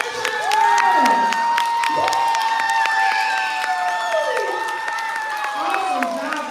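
Audience of children at a school reading event applauding and cheering in a standing ovation, dense sustained clapping with high whoops and shouts throughout, fairly loud and close.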